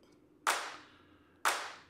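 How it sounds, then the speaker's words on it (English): Two crisp isolated handclaps from a band's raw multitrack recording ring out about a second apart, each with a short bright decay over near silence. "And we got some claps."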